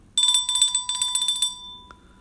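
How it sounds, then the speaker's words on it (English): A bell rung in quick repeated strikes for about a second and a half, bright and ringing close up, then a single fainter ding as it fades. "I got to ring the bell for this one."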